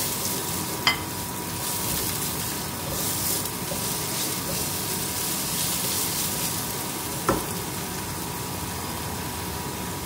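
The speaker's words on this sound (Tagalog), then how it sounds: "Gisa na natin yung mga gulay. So, carrots, onion, garlic, tsaka red pepper." Carrots, onion, garlic and red pepper sauté in a hot pan with a steady, loud sizzle throughout, broken by two brief sharp clicks of a utensil against the pan.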